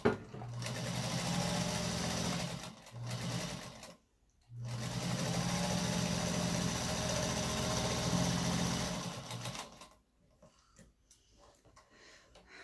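Sewing machine stitching a patchwork zipper pouch, running steadily in two long close bursts with a short pause between, then stopping into near silence.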